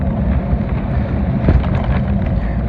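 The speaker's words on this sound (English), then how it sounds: "And it's windy. It's been windy basically since we left Iowa, and headwind the whole time." Strong headwind roaring across the microphone while cycling toward Canada, a steady loud low buffeting rumble with no voices.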